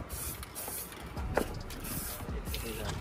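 An aerosol spray paint can hisses while paint goes onto a car wheel, inside a bus partway through a trip, with steady broadband noise throughout, the hiss continuous and near against background rumble.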